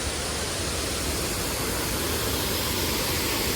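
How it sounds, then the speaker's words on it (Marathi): A small waterfall near a temple and bridge in Badlapur, Maharashtra, pours in a steady, dense rushing roar that stays even and close throughout, with no voices. "सुंदर छोटा धबधबा आहे."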